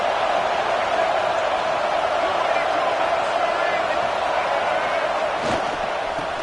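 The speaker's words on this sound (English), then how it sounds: "It's early, but this crowd is fired up. Listen to this noise here." Stadium crowd in College Football 26, a dense, steady roar that stays loud and unbroken throughout, with a faint thump or slam near the end.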